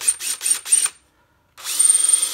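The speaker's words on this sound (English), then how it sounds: "Time to drill some holes." A power drill whines in four short bursts drilling holes in metal suspension parts for a 1955 Buick Special, pauses in silence, then runs again in a longer steady grind, close and loud.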